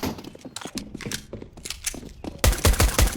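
Gunfire in Counter-Strike: Global Offensive, with a series of sharp shots and bursts through the first part, then a louder, heavier cluster of close shots toward the end.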